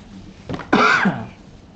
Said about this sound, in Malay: Minta maaf kalau batuk sedikit.